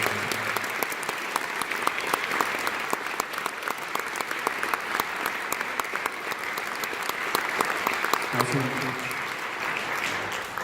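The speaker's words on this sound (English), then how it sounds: "Can you please give them a huge round of applause?" A concert audience gives a long, steady round of applause for volunteer ensemble musicians, including a piano player and a harpist, at a wind ensemble performance. The clapping is dense and sustained throughout, with brief speech near the end.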